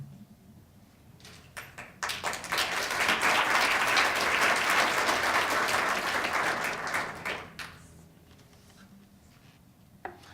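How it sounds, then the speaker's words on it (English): An audience claps before a song at a live music and storytelling event, a few scattered claps building to full, sustained applause and then tapering back to isolated claps. "You clap before the song"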